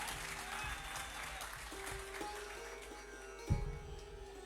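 Audience applause at a musical dastangoi storytelling performance, moderately faint clapping under a hum and tonal background, with a sharp thump near the end.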